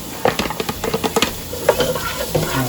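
Diced red onion, about one large onion, sautéing in a pan with soft patter and scattered clicks of stirring, fairly close and alone with no talk.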